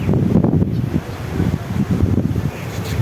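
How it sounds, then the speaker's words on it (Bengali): Strong wind just before rain roars and buffets the microphone in uneven gusts, a low rumbling rush with no voices. "এত পরিমাণ বাতাস উঠলো"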